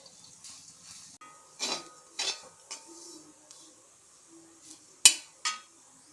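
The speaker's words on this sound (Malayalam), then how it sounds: "ഇനി നമുക്കിത് നന്നായി ഒന്ന് വറുത്തെടുക്കാം." A spoon scrapes and clinks in a pan while unniyappam batter ingredients roast, giving a few sharp metallic strokes and soft stirring over a quiet background.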